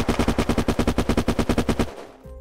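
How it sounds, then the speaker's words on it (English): Automatic gunfire in the video game Unturned, a rapid evenly spaced burst of about fifteen loud close shots lasting roughly two seconds before cutting off. "Oh, I'm getting shot."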